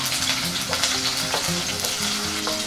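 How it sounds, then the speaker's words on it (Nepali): Onion frying in a pan sizzles steadily and close up while a utensil stirs it, scraping and clinking in irregular strokes over the continuous hiss. "प्याज पनि राखेछु र यसलाई हामीले चलाउँ"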